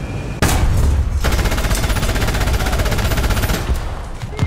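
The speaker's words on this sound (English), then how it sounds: "Got them with the machine gun" Tank machine gun fire in War Thunder from a Pz.35t, a loud sustained rapid burst of automatic shots lasting several seconds after a brief lead-in, with engine rumble underneath.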